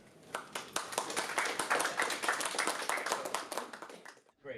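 An audience applauds after a presentation: dense, steady clapping runs for about four seconds at moderate volume, then thins and drops away before a brief final burst.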